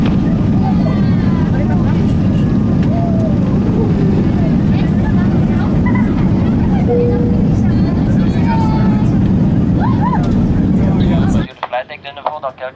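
A Belgian Air Force Airbus A330 in flight, its engines a loud, steady roar filling the cabin, with a voice talking over it until the noise cuts off near the end.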